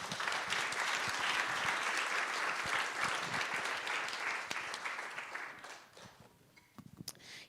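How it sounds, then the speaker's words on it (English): Audience applause at a morning conference session, steady dense clapping that fills the room for several seconds before thinning out into a few scattered claps at the end. "Round of applause."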